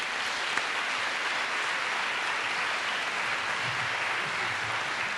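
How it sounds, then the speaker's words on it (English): A crowd applauding steadily at a school convocation, dense continuous clapping that stays even throughout, fairly loud and without talk. "so that we could give them another round of applause."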